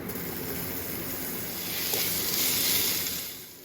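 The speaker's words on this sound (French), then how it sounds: "les faire revenir pour qu'ils colorent. Une fois que les lardons ont bien coloré" Bacon lardons sizzle steadily in hot olive oil in a heavy cast-iron pot, a dense, even crackling hiss with no talk, rising slightly toward the end.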